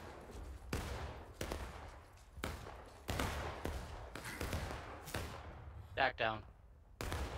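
Musket fire in the Civil War video game War of Rights, set at Antietam: repeated sharp, loud volleys and single shots crack out at irregular intervals over about seven seconds, with brief shouted voices among the shots.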